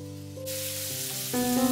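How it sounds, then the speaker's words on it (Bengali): Thinly sliced carrots with sugar fry in a pan for Afghani chicken pulao, a steady hissing sizzle that begins abruptly and stays close and even over a faint musical background. "এরপর গাজরটাকেও আমাদের হালকা করে ভেজে নিতে হবে। সঙ্গে আমি দিয়ে দিলাম চিনি।"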